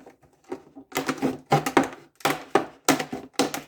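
A knife saws and cuts along the back of a plastic container for winter sowing, producing a series of sharp rhythmic crunching strokes, close and loud, about six bursts with short pauses.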